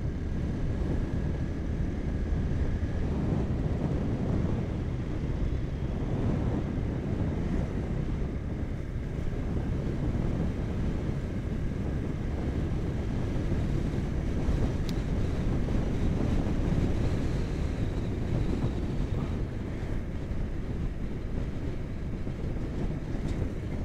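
Wind roars steadily and continuously on a highway bridge while riding a Honda X-Blade 163cc motorcycle, buffeting the microphone with a low rumble that never lets up.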